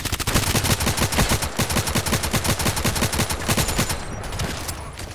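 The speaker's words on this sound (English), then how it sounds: "Who's shooting that strong there?" Rapid automatic gunfire from the video game Contract Wars rattles in a steady, loud, close stream of shots lasting nearly the whole stretch before easing at the end.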